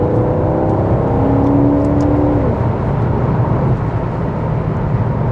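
A Ferrari-powered Maserati Quattroporte Sport GTS saloon engine roars loudly as the car accelerates hard, the revs climbing and then dropping off as it drives fast, heard close and alone.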